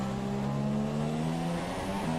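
An F1 car engine in the video game F1 2017 at the Brazil Grand Prix holds a loud, sustained high-revving drone with shifting pitch, close and steady throughout.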